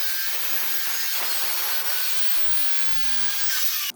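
A power saw cuts metal E-track with a burr-free cut, giving a loud, harsh, high-pitched screech that holds steady for about four seconds before stopping abruptly. The saw is close, and no voices are present.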